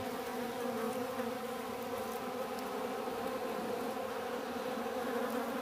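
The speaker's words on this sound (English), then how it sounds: "That bee really knew how close it came to being dessert." A bee buzzes steadily and close, a continuous droning hum that holds level throughout with no talk over it.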